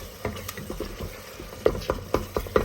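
A spoon stirs egg and potato masala as it fries in a pan, giving a soft sizzle under a run of scraping strokes that grow sharper and more regular toward the end.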